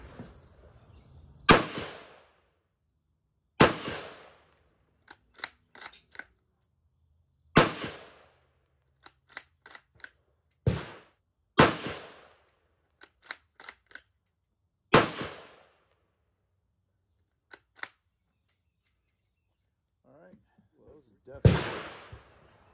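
Rifle shots from a Ruger American in 7.62x39 firing 123-grain handloads with 24 grains of Reloader 7, about six loud sharp cracks spaced a few seconds apart, each with a ringing decay, with faint clicks and handling noise between.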